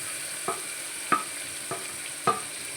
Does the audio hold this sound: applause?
no